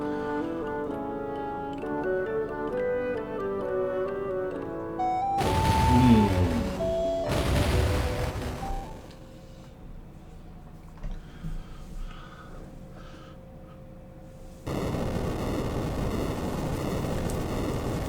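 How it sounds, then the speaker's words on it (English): A powder charge blasts a rock in the Final Fantasy game, with two loud, noisy bursts after a stretch of chiptune music, then quiet and a final sustained rush of noise. "we can blast this rock to smithereens"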